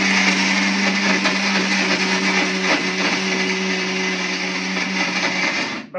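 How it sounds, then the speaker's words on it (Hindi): A mixer grinder blending nuts whirs loudly and steadily for about six seconds, a harsh motor drone with rattling grit, then cuts off abruptly at the end. "इसके बाद इसको मिक्सी में डाल के ना"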